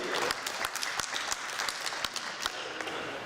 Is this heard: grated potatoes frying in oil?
no